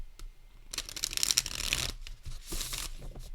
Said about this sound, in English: So, shuffle demonstration.